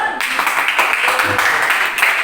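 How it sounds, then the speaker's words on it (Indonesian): A school class claps together indoors in a short burst of dense, fairly loud applause that lasts a couple of seconds. "Tepuk tangan untuk kita semua dulu."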